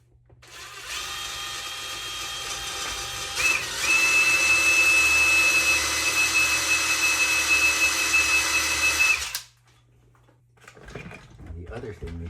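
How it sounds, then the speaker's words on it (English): A power drill boring pilot holes for the feet of an epoxy serving tray whines loudly and steadily for about eight seconds, rising in pitch partway through, then cuts off into quiet handling noise. "we can go ahead and drill our pilot hose for our"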